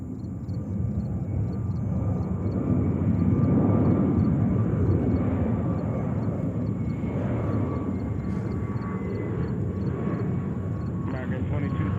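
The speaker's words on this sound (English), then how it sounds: "we have Swiss coming in, flight 16 and a 330-300 from Zurich in beautiful Switzerland" A Swiss Airbus A330-300 from Zurich arrives at JFK airport, its engines a steady, broad rumble that swells and holds, with radio chatter heard over it.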